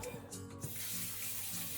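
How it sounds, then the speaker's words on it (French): Peeled potatoes are rinsed under a running kitchen tap, water splashing steadily into the sink for a brief moment. "Rincer les pommes de terre une fois épluchées."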